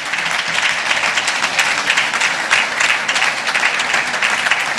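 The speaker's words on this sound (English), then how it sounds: "Please put your hands together for every single one of them." An audience at an education achievers award ceremony applauds in a dense, steady burst of many hands clapping, loud and sustained throughout.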